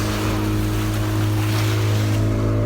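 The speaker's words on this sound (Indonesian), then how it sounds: "kita nih dihantam gelombang. Gelombangnya kasar bro." Rough waves slap and churn against a small boat on the Krueng Tenom river, a steady low engine drone running underneath the continuous splashing and rushing water close by.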